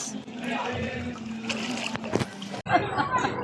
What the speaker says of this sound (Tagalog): Baha po as of now. Ang lakas pa ng agos.